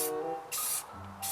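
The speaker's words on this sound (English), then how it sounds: "Go spray paint on it." A spray paint can hisses onto a car being restored, three separate bursts of spraying with short pauses between them, close and steady over a low background hum.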